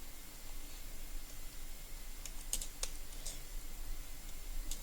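Typing on a computer keyboard during a Portuguese lesson, a steady run of small clicks and taps close by, alone without talk.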